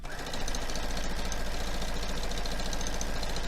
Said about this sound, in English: So as I'm sewing it,